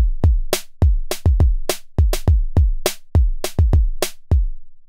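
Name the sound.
variation of kick and snare beat, Roland XV5080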